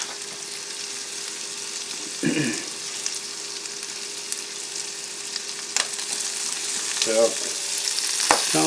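Shrimp fried rice frying with sesame oil in a pan at a tent campsite: a steady close sizzle and crackle, with a few scraping stirs and soft pops, and no talk.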